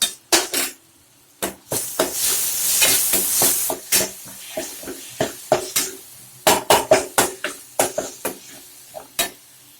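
Neem flowers sauté in a pan for rasam, with a spatula clanking and scraping in sharp, repeated strokes over a soft sizzling hiss that swells briefly before the stirring continues.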